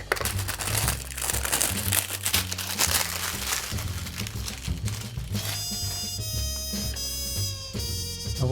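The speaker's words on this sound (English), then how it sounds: "Get rid of the cellophane." Cellophane wrapping crinkles and tears as it is pulled off the box of a Lifegoo jeweller's screwdriver set, a close, steady crumpling with some low background hum and tonal ringing toward the end.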